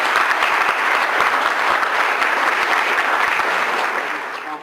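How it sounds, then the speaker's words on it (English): An award ceremony audience applauds, a dense, steady roar of clapping that fills the room and tapers off slightly at the end. "So let's give a round of applause."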